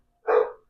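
A single dog bark rings out indoors, one short, loud, close burst with nothing else around it.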